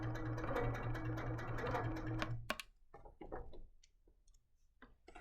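A longarm quilting machine stitches along a ruler, a steady rapid mechanical whirr for about two and a half seconds before it stops, then quieter scattered clicks and handling sounds follow.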